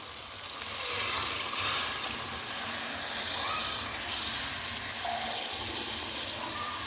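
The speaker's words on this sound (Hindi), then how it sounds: "अब इसमें पानी ऐड करेंगे।" Water pours steadily into a cooking pot for village-style chicken biryani, a continuous close gushing splash that swells briefly near the start and then holds an even rush, with no talking.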